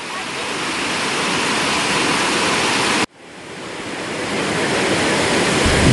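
Talang Tirta Asri waterfall in Merangin, a dense steady roar of falling water filling the clip, briefly cut off midway and then resuming at full strength, with no speech.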